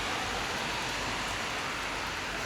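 Steady rain falling outdoors during a bicycle outing in Denmark, a continuous broadband hiss with no distinct drops, even and fairly close throughout.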